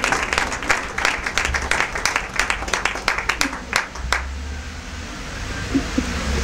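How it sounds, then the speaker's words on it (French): Crowd applause at an awards evening honouring Congolese actors: brisk, close hand claps ring out together for about four seconds, then fade to a low room murmur. "Applaudissons, toujours sous les applaudissements"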